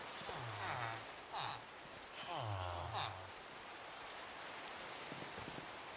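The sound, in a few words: rain in a video game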